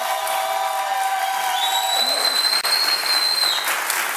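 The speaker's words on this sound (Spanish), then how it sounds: "Un aplauso." Studio audience on a Venezuelan talk show breaks into sustained applause, a bright continuous patter of many hands with faint whistles rising above it.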